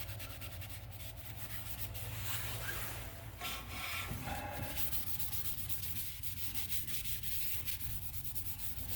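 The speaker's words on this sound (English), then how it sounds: "get a clean rag, spray some like a brake cleaner on it" A rag soaked in brake cleaner is rubbed over a brake rotor on a 2013 Chevrolet Impala, making continuous close scrubbing and swishing strokes over a low background hum.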